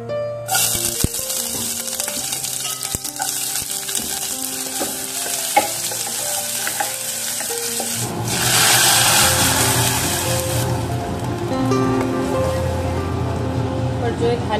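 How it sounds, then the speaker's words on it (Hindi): Garlic and onion sizzle in hot oil as a tempering for dal, a steady frying hiss that grows louder and fuller partway through, continuing close and loud with a soft background hum. "इस साइड जो है दाल को छौंक लगा रही हूँ"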